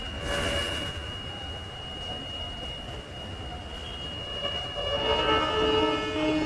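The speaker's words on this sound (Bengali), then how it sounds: "এই রেলের শব্দ হইতেছে এই এই সাইডটা দিয়ে রেলগুলা আসতেছে" A train rumbles past nearby with steady low roar and a faint high whine, growing louder toward the end.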